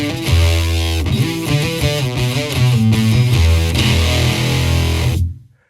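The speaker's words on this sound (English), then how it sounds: "my low strings right now have this kind of fuzzed out sound" Heavily fuzzed, distorted low guitar strings, fuzzed with Ableton's stock Roar plugin, chug through a dense, gritty riff, loud and sustained before cutting off abruptly at the end.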